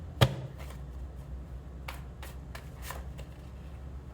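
A tarot card deck is handled up close. A sharp snap is followed by several soft riffling bursts of shuffled cards over a quiet room hum.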